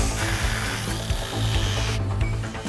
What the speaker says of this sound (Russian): 20 минут работы болгаркой